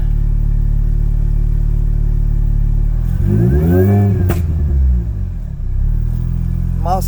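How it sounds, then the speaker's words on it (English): A modded Mini Cooper R53 engine idles with a loud, constant rumble, then revs sharply up and falls back, with exhaust popping crackling as the revs drop. "I'm also getting hella poppage back there too. Yeah, that's too much popping."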